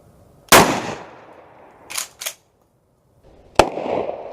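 A Mossberg 500 Compact Cruiser AOW fires a ball round with one sharp, loud report that rings out outdoors. Two quick smaller clacks follow, then another sharp bang near the end.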